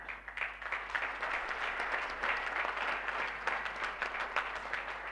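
Audience applause for the speakers, a steady wash of many hands clapping, moderately loud and continuous throughout, with no talk over it.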